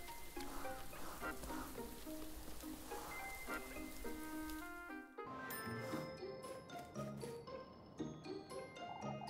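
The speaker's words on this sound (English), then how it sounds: "Ooh, raining harder, I see." Steady video-game rain patters on a surface throughout, with soft chiming tones and a brief pause partway through before the rain resumes.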